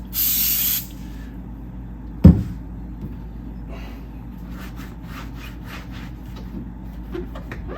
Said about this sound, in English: I have actually this industry cleaner adhesive glue remover.